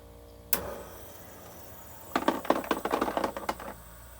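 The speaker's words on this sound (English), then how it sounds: "My ice maker is making a bunch of noise right now." A refrigerator ice maker drops ice into its bin: one sharp clunk, a short pause, then a rapid clattering burst of cubes tumbling and rattling, close by in a quiet room.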